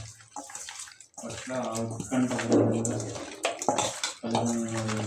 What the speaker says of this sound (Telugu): పసుపు వేసి కడగాలండి